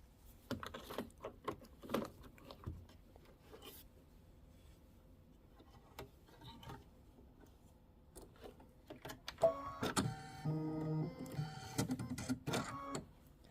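A home embroidery machine stitches a satin outline around three hearts in a 5x7 hoop, a soft rapid mechanical ticking that swells into a denser, louder whirring run near the end.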